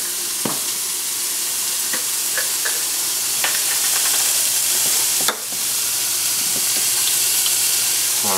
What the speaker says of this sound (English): And then we'll throw in some just diced garlic.